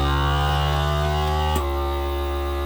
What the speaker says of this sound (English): We've got our food saver vac pack